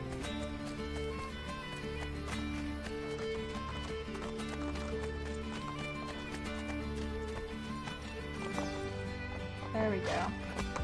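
Galloping horses in Assassin's Creed Brotherhood beat out rapid hoof clip-clops under layered game music and effects, with a whinny near the end.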